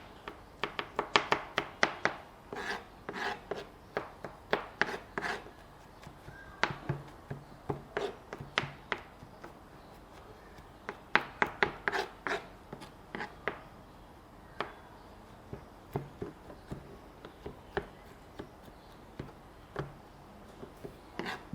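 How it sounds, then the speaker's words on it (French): A chef's knife finely chops crushed ingredients by hand on a board, producing quick clusters of crisp, close taps that come in bursts with short pauses between them. "Alors je veux le hacher"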